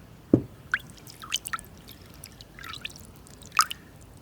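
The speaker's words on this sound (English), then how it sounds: "You pour a lot of water onto it and you stir it around." Water poured onto ground stone pigment and stirred during levigation for handmade Mughal-style paint, heard as sparse close drips, splashes and soft squishy sloshing with quiet gaps between, fairly faint overall and no talk.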